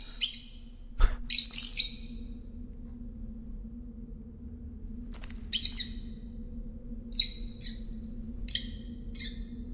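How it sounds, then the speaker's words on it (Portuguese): Chirping song of a bird in the video game Virginia, several bright, clear phrases repeating at intervals over a steady low ambient hum, with one sharp thump early on. "O pássaro continua a cantar."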